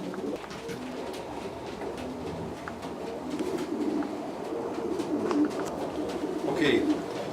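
Soft, low pigeon cooing rises and falls repeatedly at close range, growing a little louder toward the end over faint background noise.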